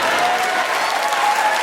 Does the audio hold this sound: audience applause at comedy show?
yes